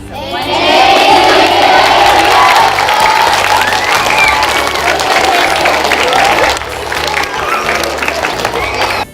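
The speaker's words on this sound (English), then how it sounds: "So let's say thank you and then clap." Loud crowd at an art unveiling with elementary school children, sustained clapping mixed with cheering and children's shouts that keeps going for about nine seconds.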